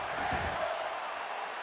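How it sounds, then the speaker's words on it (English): Wrestling arena crowd chanting for the tables at a ringside show, a dense, steady roar of many voices at even loudness throughout. "Crowd already chanting for the tables."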